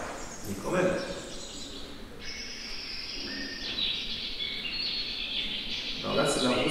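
Recorded warbler song with rapid, virtuosic runs of high notes, mixed with other birds including a pigeon, fairly faint and layered over a softer background.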